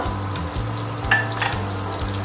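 Colocasia leaf rolls fry in hot oil with a pinch of asafoetida, giving a steady close sizzle with a low bubbling undertone and a few brief spatters.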